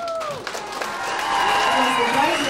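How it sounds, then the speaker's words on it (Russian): Audience applause at a children's vocal contest for singers aged three to five, swelling into steady, fairly loud clapping after a brief opening, with a voice heard over it. "Аплодисменты."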